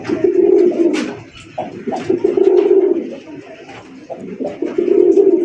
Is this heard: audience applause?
no